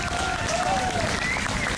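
Outdoor crowd applauding a Hawaiian musician at a Thomas Square anniversary celebration, dense steady clapping throughout with a faint whistle or cheer rising over it.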